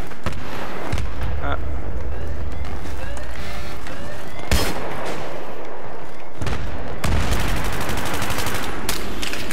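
Heavy machine gun fire in the video game Battlefield 3, in loud sustained bursts with other gunfire and explosions in the mix, while players talk over it.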